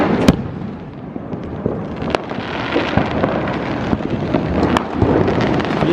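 Distant Diwali firecrackers pop sporadically, thin sharp cracks scattered over a dense rumbling wash of wind and outdoor noise, none close or especially loud.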